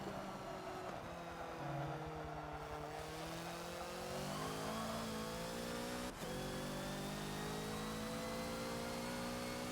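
Hoonigan Ford Focus race car in the Forza video game on the Brands Hatch circuit, its engine revving hard and climbing up through the gears to bounce off the rev limiter, steady and loud throughout with no talking.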